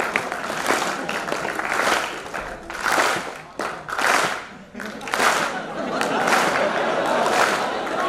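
Audience applause at a Hindi kavi sammelan poetry recital, rising in several loud waves of clapping over about eight seconds with scattered chatter and laughter mixed in.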